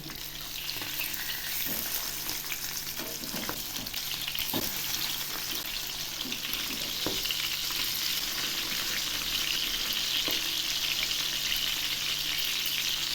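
Silver carp pieces fry in hot oil in a pan, giving a steady, close, loud sizzle that runs unbroken throughout, with a few soft clicks and knocks from the pan or utensil along the way.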